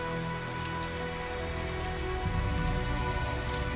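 Steady rain pours down in a video game, a dense, constant patter that grows slightly heavier partway through, with no talking.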